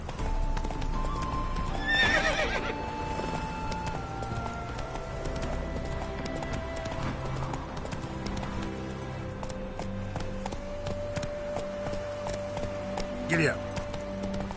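Roach, a horse in The Witcher 3, clip-clops at a steady gallop with game music and ambience underneath, breaking into a clear neigh near the start and another whinny toward the end, with talk mixed in.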